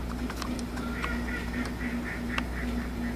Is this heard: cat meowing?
no